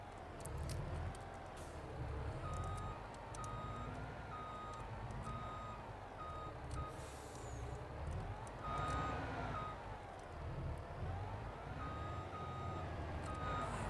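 A truck in Farming Simulator 22 reverses with steady, evenly spaced backup beeps over a continuous engine rumble. The beeping is loud and close and carries on for the whole stretch.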